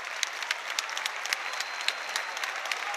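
Falkirk supporters at a football match against Livingston give a warm round of applause, a steady patter of distant stadium clapping over a soft crowd hum.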